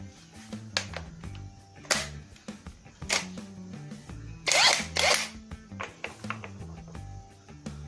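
A NAGAWA NCI350U 350 Nm brushless impact wrench with a 24 mm impact socket loosening a nut: several short, loud bursts of hammering rattle separated by pauses, the longest burst near the middle, with no talk.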